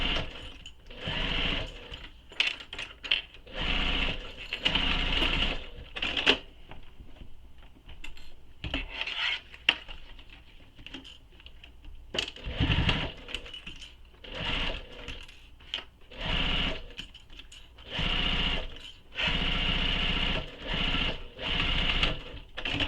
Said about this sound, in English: Now I'm going to sew the other side.